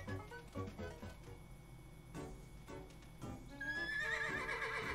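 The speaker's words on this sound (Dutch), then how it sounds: "Een paard in nood." A horse neighs in the video game Miitopia, a rising, wavering whinny toward the end over a busy background of clip-clop hooves and light clatter, moderately faint.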